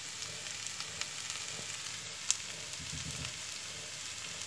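Cauliflower risotto sizzles in a pan as broth is added, a steady, moderately quiet frying hiss with small crackles and one sharp pop, no voices.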